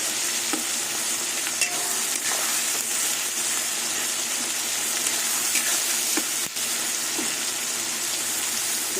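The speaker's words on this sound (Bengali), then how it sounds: "টমেটোগুলো আপনাদের তেলের সাথে একটু ভালো করে কষিয়ে নেব" Tomatoes fry in oil with a steady sizzle and constant frying hiss, broken by occasional clicks and scrapes of stirring.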